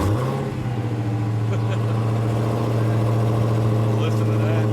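A 2015 Dodge Challenger SRT Hellcat engine runs steadily nearby, a deep, constant rumble with slight pitch wavering.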